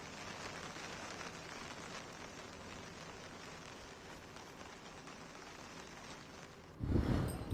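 Heavy monsoon rain pours steadily in Satara, Maharashtra, a continuous faint hiss of downpour heard alone, with a brief louder burst at the very end.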